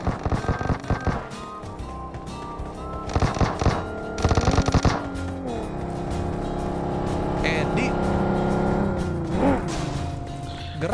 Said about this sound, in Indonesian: Eh, siapa tuh nembakin gue?